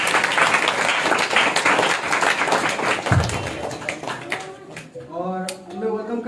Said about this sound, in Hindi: हम सब ताली बजाएंगे।